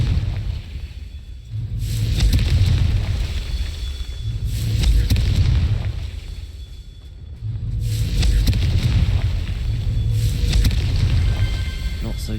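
Deep, rumbling fire-spell explosions from the Confringo curse in Hogwarts Legacy, repeating roughly every few seconds as heavy booms that swell and fade, with game ambience between them.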